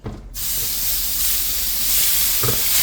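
Pork pieces sear in a few tablespoons of hot oil, a loud, steady, close sizzle and hiss that begins abruptly and holds through to the end, with a brief crackle burst near the finish.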